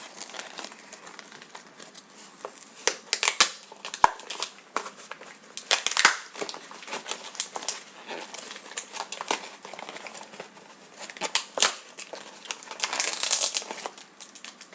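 A package is torn and wrestled open by hand without scissors, with bursts of crinkling, crumpling and ripping plastic or paper arriving in irregular clusters close by, separated by quieter handling.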